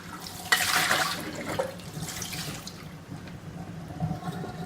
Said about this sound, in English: I'm just washing up some jars just with normal soapy water